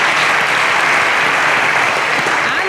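A live audience applauds a band at a family magazine-show event in Badagry, a dense, steady burst of clapping that fills the whole short stretch at full volume.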